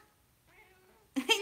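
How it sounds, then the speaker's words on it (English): A pet cat gives a short, faint meow, then a louder, sharper meow closes out the quiet moment, heard close by in an indoor room. "That's my kitty right there."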